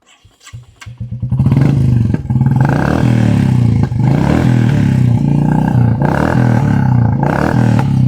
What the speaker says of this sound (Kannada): ಇನ್ನು ಗಾಡಿ ಸೌಂಡ್ ಕೇಳಿಸ್ತೇನೆ ರೀ